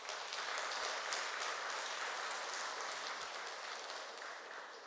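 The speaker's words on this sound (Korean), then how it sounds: "박수 한번 쳐주세요." A Won Buddhist congregation at a regular Sunday service gives a big round of applause. Dense, even clapping from many hands fills the hall, moderately distant and steady, slowly tapering toward the end, with no voices over it.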